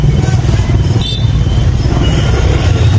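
Motorcycles crowd a Hanoi street, their engines blending into a dense, continuous close-up drone and rattle of traffic with no pauses or voices.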